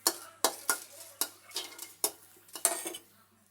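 Dry red chillies roasting in a pan as a utensil stirs them, a series of sharp metallic scrapes and knocks in an uneven rhythm, close and clear with no talk.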